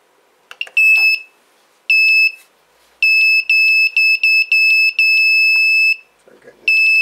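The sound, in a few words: Smart controller LCD 12864 beeper playing a tune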